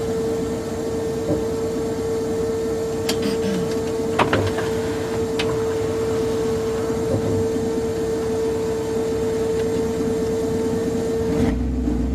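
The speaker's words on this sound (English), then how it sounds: "Sometimes I can hear the fuel pump and sometimes it's silent." The fuel pump of an LS-swapped third-generation Firebird runs with a steady, even electric hum under low engine noise, broken by a few faint clicks.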